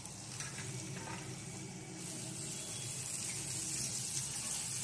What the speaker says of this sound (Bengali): শাকগুলো দিয়ে নেড়ে ঢাকা দিয়ে দিতে হবে